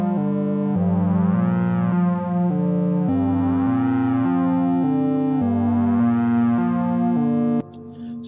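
A deep modular synthesizer bass line plays a slow repeating pattern, its tone sweeping open and closed as the filter moves, then cuts off abruptly.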